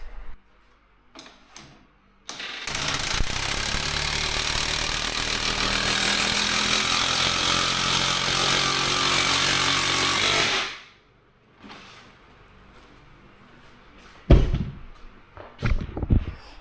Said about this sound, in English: So we'll jack it up and we'll see how much narrower it gets.